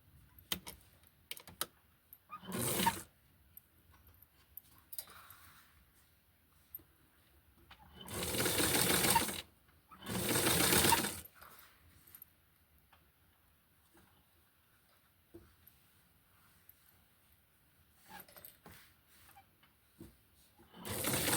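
Short bursts of a sewing machine stitching a Francie doll pattern, three main runs of a few seconds each separated by quiet handling and faint clicks.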